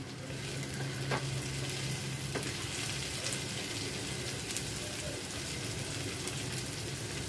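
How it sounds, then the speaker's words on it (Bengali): Chopped onion and tomato fry in hot oil for paneer bhurji, giving a steady, dense sizzle that runs unbroken and fairly close, with no voices. "তেলের মধ্যে পেঁয়াজ আর টমেটো একটু ভেজে দিয়েছি।"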